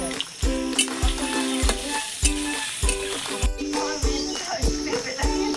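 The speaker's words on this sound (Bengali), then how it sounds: "বন্ধুরা, এবার পনিরটা তেল গরম হয়ে গেছে, আমি পনিরটা ভেজে নেবো।" Cubes of paneer frying in hot oil with a pinch of turmeric give a steady sizzle, while a rhythmic beat of background music and sharp regular knocks run over it throughout.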